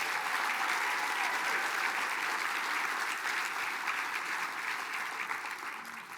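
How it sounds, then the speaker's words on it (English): A large audience at the Mille Lacs Band of Ojibwe State of the Band gathering applauds for Rihanna, a steady, full wash of clapping that holds for several seconds and fades slightly toward the end. "Round of applause for Rihanna, please."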